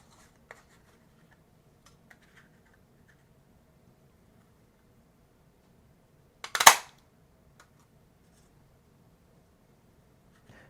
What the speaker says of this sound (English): the cupcake topper you can use the tree builder punch to punch out